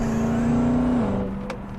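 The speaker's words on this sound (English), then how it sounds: "I'll do a little pull in third gear." A supercharged 2017 Dodge Charger Hellcat pulls hard in third gear. The loud, steady engine drone with a whining tone dips slightly in pitch partway through, heard from inside the car with no talk.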